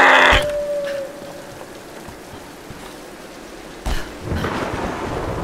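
A thunderstorm in the Tomb Raider video game: a loud crack opens, then steady rain hiss with a rumbling thunder swell returning later, all without talking.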